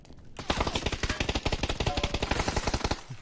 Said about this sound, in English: I'm shooting upstairs to make sound.